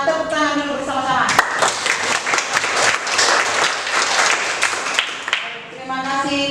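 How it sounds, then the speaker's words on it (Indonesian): At a school farewell ceremony for a teacher, a crowd claps together in a loud burst lasting several seconds, with a voice speaking just before it starts and again as it fades. "Mari kita sama-sama tepuk tangan dulu bersama-sama."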